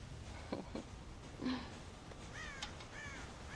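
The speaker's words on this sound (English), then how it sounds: "God damn crows!" Crows caw repeatedly in Red Dead Redemption 2, a few harsh calls at moderate distance scattered over a faint ambient game background with no talk.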